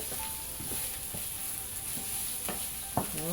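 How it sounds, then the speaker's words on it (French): Onion and shallot sizzle steadily in a frying pan while a utensil stirs and scrapes through them, giving several close clacks and a rough scrape near the end, with no talking. "L'oignon mélangé avec l'échalote. On va bien les mélanger là."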